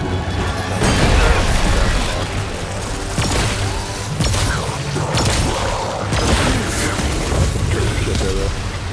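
Gunfire from an end-game build in Remnant 2, dense and loud, with repeated heavy impacts and mechanical clatter layered over constant game noise for the whole stretch.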